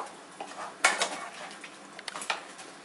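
Beef bourguignon stirred in a pot: a short burst of scraping and clinking from a utensil against the pot over a light sizzle, a few quick strokes close by, no talking.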